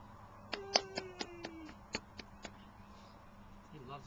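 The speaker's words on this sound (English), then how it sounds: "You clapping?" A small child claps outdoors, giving about eight soft, irregular claps close by, while an adult's voice is heard faintly now and then.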